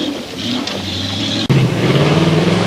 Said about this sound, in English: A Range Rover driven by Graham Morby.